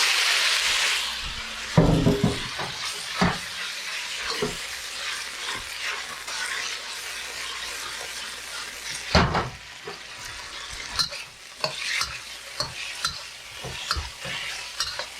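Mei fun noodles stir-fried in a wok over high heat, with a loud continuous sizzle broken by repeated sharp scrapes and clatters of a spatula tossing the noodles.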